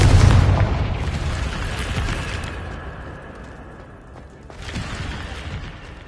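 In the video game Hogwarts Legacy, a Confringo fire spell bursts with a loud, booming explosion that rumbles off into a long fading roar, with a second swell of rumble near the end and no talk.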